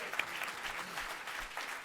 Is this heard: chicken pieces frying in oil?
no